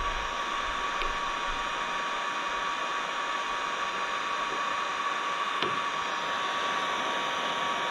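A heat gun blows steadily on a Pontiac Solstice body panel during paintless dent repair, producing a constant close airy roar with a faint high whine and a couple of light knocks, and no one speaking.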